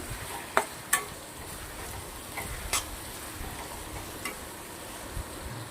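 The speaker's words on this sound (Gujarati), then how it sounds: "હવે આપણા જે કમળની જળ છે બાફેલી એ નાખી દેવાની છે. સરસ મજાનું મિક્સ કરી દઈશું આને." Boiled lotus stems being mixed into spiced oil in a frying pan, with a soft sizzle underneath and a few sharp spatula clicks and scrapes spaced irregularly.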